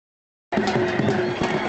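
A horse gallops at a tent pegging (neza bazi) event in Mandi Bahauddin. Fast rhythmic hoofbeats begin abruptly under dense, loud outdoor crowd noise.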